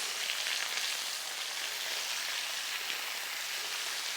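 Beef pepper steak sizzles steadily in a hot pan as the meat is turned, a dense, even crackle of frying fat with no voices.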